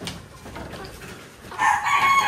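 Chickens in a coop with newly hatched chicks nearby, faint clucking at first, then louder close-up crowing and clucking rising over the last second.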